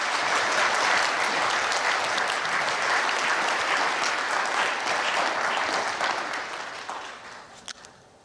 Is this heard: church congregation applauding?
yes